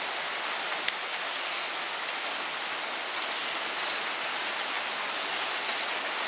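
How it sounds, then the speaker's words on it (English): Steady rain patters on a hard surface, a dense even hiss of drops with an occasional sharper drip near the start, no voices. "So here comes the rain."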